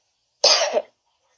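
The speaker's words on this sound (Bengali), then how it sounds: "কাশি হচ্ছে আজকে আবার" A single harsh cough, close and fairly loud, lasting about half a second with silence before and after.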